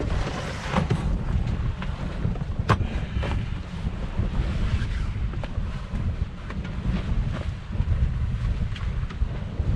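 Steady wind roars and buffets across a sailboat under way as the breeze freshens, a continuous loud low rush with gusty swells and occasional sharp knocks from the boat, with no talk.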